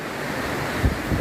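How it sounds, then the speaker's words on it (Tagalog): A constant heavy wind rush after Typhoon Karding fills the clip, with low gusty buffeting swelling near the end. "Ayan o, lumalakas na yung hangin o."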